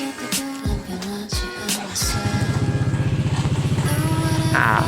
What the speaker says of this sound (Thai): ก็ต้องสตาร์ทเครื่องก่อนนะครับ